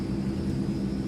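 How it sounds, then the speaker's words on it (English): Transall C160 engines spooling up in Microsoft Flight Simulator, a steady, even low drone with a faint high whine running through the brief stretch. "Spooling up."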